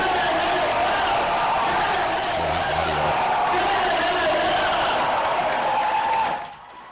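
A large crowd claps and cheers at a political resignation announcement, a dense continuous roar of applause that cuts off abruptly near the end.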